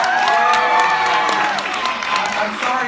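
Audience at a live comedy show applauds and cheers together, a steady wash of clapping with whoops and raised voices filling the room for a few seconds, loud and close throughout.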